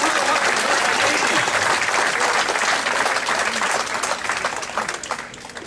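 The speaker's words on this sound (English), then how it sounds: "Give them a nice round of applause." Sustained applause from a show audience, dense and steady, loud at first and thinning slightly toward the end, with no talking over it.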